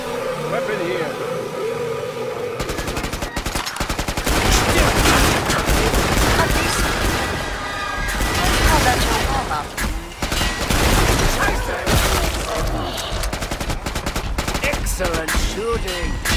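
Dense rapid gunfire from the video game Killing Floor 2, bursts of automatic fire and single shots overlapping loudly and continuously with game noise and voices throughout.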